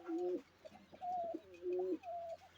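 Repeated cooing from an Indian original Basiraj pigeon, three drawn-out rolling coos in steady succession, close and clear with no talking.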